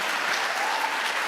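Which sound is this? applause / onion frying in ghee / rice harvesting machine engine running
applause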